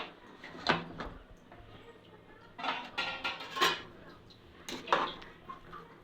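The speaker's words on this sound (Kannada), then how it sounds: "ಕುಕ್ಕರ್ ಮುಚ್ಚಳ ತೆಗಿತಾ ಇದ್ದೀನಿ" Metal clanks and scrapes of a pressure cooker lid being worked loose, with several separate knocks spread across a few seconds in a quiet kitchen.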